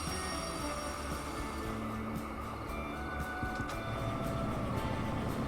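E2 locomotive shunting wagons in Derail Valley, a steady rumbling drone of engine and rolling stock with tonal hums and faint squeals running throughout, fairly loud and continuous with no talking.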